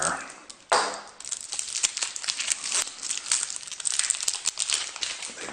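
Plastic wrap around a pack of IceCool board game score cards being cut open and peeled away, a burst of close crinkling and tearing followed by steady rustling and crackling throughout.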